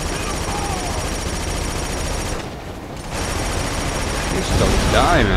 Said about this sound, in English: I'm shooting everything.